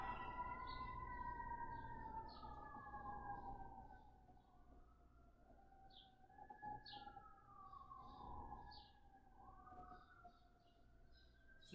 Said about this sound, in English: See if you can let go a little more despite the sound of the siren.